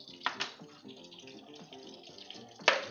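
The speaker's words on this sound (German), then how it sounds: "Also, wir füllen jetzt hier 1 Liter Wasser rein." Tap water running into a cooking pot for ramen, a steady splashing stream with a couple of sharper clunks of the pot near the start and end.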